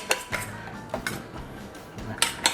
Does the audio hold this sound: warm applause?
no